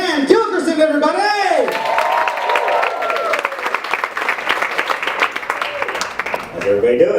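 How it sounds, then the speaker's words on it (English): Live comedy-club audience applauds and cheers as comedian Dan Gilkerson takes the stage, steady clapping with scattered whoops, loud and close, under a lingering voice at the start. "big round of applause for Dan Gilkerson, everybody!"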